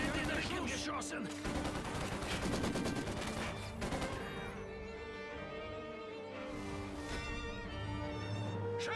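Rapid small-arms and machine-gun fire crackles through a Company of Heroes 2 battle in the Ardennes, dense and continuous over rumbling explosions and game sounds, with voices shouting amid the fighting.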